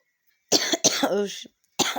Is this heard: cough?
yes